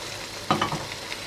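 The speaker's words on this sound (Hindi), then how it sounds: "इसे भी अच्छे से मिक्स करते हैं" Chicken tikka dal is stirred in a pan over gentle sizzling, with a few quick scraping strokes of a spoon against the metal.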